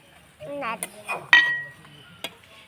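A small spoon stirs a small wok while steamed eggs are cooked, with a few scraping clinks and a sharp metal tap against the pan, heard between a woman's speech.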